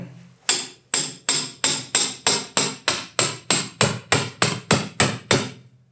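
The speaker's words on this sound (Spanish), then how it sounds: "Puede ser también con el osteótomo canalado, ¿sí? Ayudándonos con el martillo." A metal surgical hammer strikes a fluted osteotome again and again during tibial nail surgery, about a dozen even, ringing blows in a steady rhythm, close and loud.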